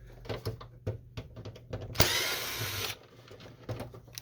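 Screws are removed from the cover of an HP Photosmart Premium C410a printer during disassembly, heard as close ratcheting clicks and small plastic knocks with a one-second burst of whirring in the middle, with no talking.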